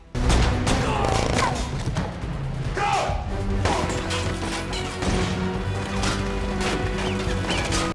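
An action movie shootout in a warehouse, with loud, dense gunfire, crashes and explosive impacts over a constant roar of music and effects.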